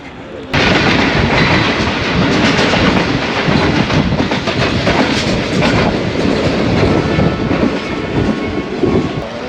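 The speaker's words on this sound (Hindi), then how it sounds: "खारियां छावनी रेलवे स्टेशन पर अपना शेड्यूल्ड स्टॉप करने के बाद अब एक दफ़ा फिर रवाना हो रहे हैं" The 14DN Awam Express pulls out of Kharian Cantonment station, wheels clattering loudly and continuously beneath a steady rumble from a carriage, with rhythmic clickety-clack building throughout.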